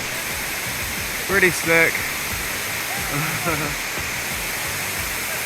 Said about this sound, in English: I believe this is waterfall number 5.